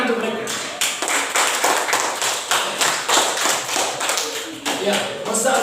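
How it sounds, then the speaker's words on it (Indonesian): A classroom group claps during a Catholic religion lesson, with about a dozen loud, evenly spaced, rhythmic claps running through the whole stretch, close and alone. "Tepuk tangan untuk mereka."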